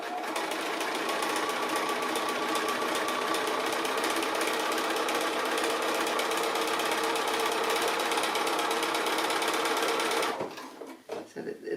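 A sewing machine runs at steady high speed for about ten seconds, stitching with its presser foot half raised over a nested conical fabric tree, then stops abruptly, leaving a few faint handling clicks.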